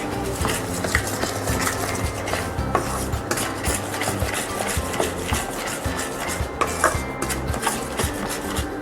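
Halkova sweet batter whisked in a pan with ghee, a dense rapid scraping and rubbing of utensil against metal, continuous and close with busy rhythmic strokes and no talking.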